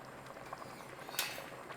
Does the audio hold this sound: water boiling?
yes